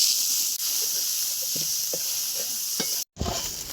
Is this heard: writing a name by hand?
no